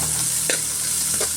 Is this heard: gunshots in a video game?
no